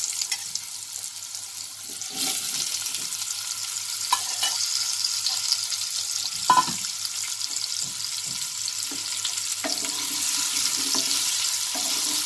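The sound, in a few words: potatoes frying on a high flame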